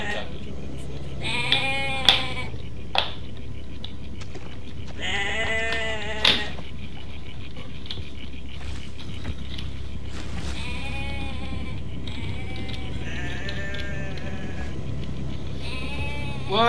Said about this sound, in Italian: E dai, sono due capre.